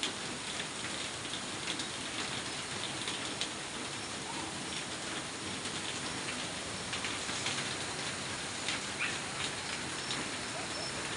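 Heavy rain pouring down outside, flooding the ground: a dense, steady wash of drops drumming on surfaces that stays constant throughout, with faint voices in the background.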